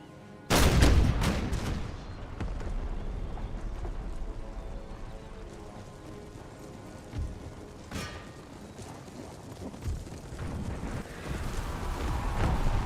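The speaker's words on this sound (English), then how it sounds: "These guns, canister shot." Cannons fire canister shot in Empire: Total War, an Indian expansion battle, opening with one loud close blast, then scattered rattling reports and muffled booms over steady battlefield din.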